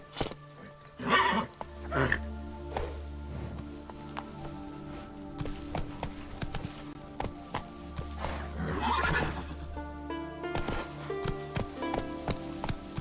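A horse in The Witcher video game clip-clops along at a steady gait and gives two loud neighs, its hooves continuing beneath game music and ambient noise.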